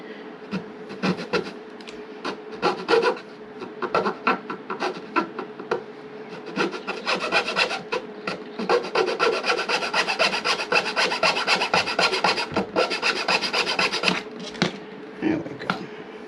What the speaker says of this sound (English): Cut about 1/16 of an inch off of this rascal.